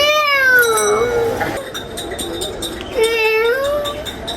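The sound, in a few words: elderly man imitating a cat's meow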